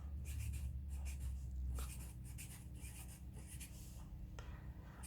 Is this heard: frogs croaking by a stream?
no